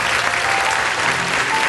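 An audience at a Thong Chai charity show claps together in a brief, dense burst of applause, loud and continuous from start to end.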